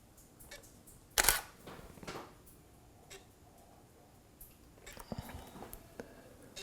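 A camera shutter fires once, loud and close, while taking food photos with flash, followed by faint handling clicks and taps in a quiet room.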